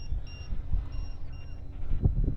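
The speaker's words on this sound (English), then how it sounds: "Stall warning." Stall-warning beeps from the telemetry of an RC Thunderbird on its maiden flight at a model airfield: faint, thin repeated tones sitting over outdoor wind and engine-like rumble, with no talk.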